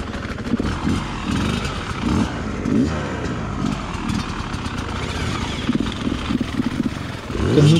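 An enduro motorcycle engine revs hard while tackling a climb at a stone quarry in the mountains, loud and close with repeated throttle surges and uneven bursts of acceleration.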